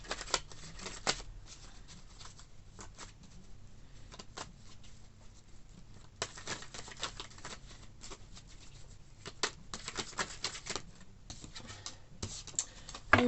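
Tarot cards are shuffled by hand in quick, papery riffling bursts with short pauses between them, close and fairly quiet, with no voice over the sound.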